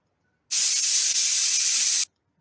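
A pressure cooker releases a loud, steady, hissing blast of steam lasting about a second and a half, starting and stopping sharply.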